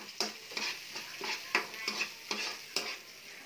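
Ginger (luya) sizzles in a pan while being stirred, with a steady hiss broken by regular scraping strokes of a utensil roughly twice a second, close and quiet, with no talking.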